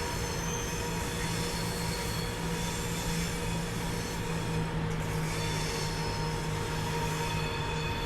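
A Class 171 Southern train in Train Simulator 2016, on the South London to Brighton route, rumbling steadily through a corner with a sustained high wheel squeal riding over constant low rail noise, no talking.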